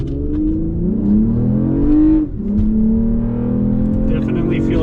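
A modified Toyota Camry accelerates hard in normal mode, engine note climbing through the revs with a brief dip at a gear shift before pulling again, loud from inside the cabin with some talk over it.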